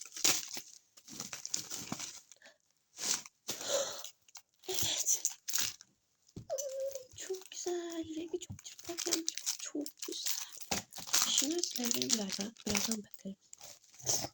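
Plastic wrapping on a Temu package crinkles and tears in bursts while someone talks over most of it, the rustling close and intermittent.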